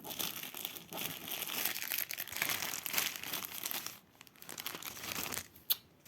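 Close and continuous crinkling of a plastic packing bag while handmade earrings are packed, rustling and crackling steadily with a short pause and one sharp crackle near the end.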